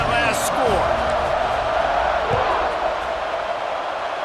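A stadium crowd buzzing after a score in EA Sports College Football 26: a steady, broad roar of many voices with some whoops, and a commentator talking over the noise.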